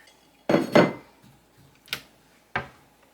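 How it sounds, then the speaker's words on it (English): A knife and plate are fetched in a kitchen: a pair of close clattering clinks, then two sharper single knocks of crockery and cutlery, with quiet between. "So let me get a knife. And a plate."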